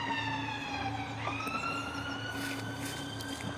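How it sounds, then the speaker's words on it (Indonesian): An ambulance siren wails in the distance over a residential neighbourhood, a steady rising-and-falling electronic tone that holds throughout with a faint low background hum and no talking. "Sirene itu. Iya. Ambulans cek."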